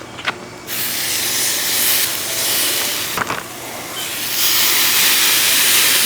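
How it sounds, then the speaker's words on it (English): Marinated strip steaks sizzling on a hot grill, a loud steady hiss with a couple of sharp pops and flare-ups along the way, no voices. "Let's get these steaks on the grill."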